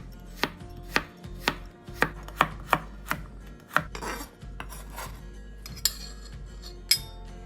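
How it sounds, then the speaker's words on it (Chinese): Knife slicing 100 g of carrots on a cutting board, a steady series of about a dozen crisp, sharp chops with light clinks between strokes, close and clear with no talk. "另外再将100克胡萝卜切片。"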